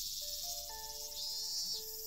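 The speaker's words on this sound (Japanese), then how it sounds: "お構いなしにわめき続けるセミの声" Cicadas drone in a video game scene as a continuous high, buzzing hiss. Soft, sparse musical tones sit underneath it, and the insect sound stays at a moderate level throughout.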